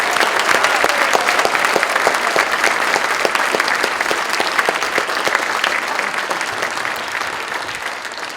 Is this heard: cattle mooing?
no